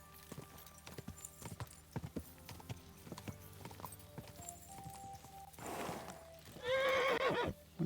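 A horse in a medieval video game, scattered hoof clip-clops giving way to a loud whinnying neigh near the end, with faint game ambience behind.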